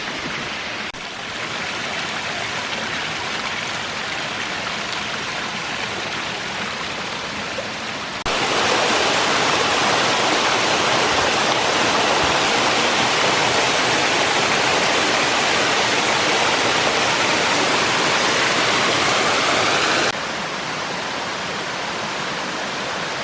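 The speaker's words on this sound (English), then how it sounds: "It's just like a constant, different waterfalls dropping off." Waterfalls cascading over rocks beside farmhouse ruins, a dense constant roar of falling water that grows louder midway as the listener moves closer, then eases back slightly.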